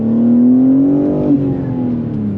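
BMW G80 M3 engine revving under acceleration, a loud close rising tone that climbs steadily, briefly dips as if shifting, then carries on strongly.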